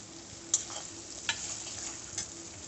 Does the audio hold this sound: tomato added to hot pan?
yes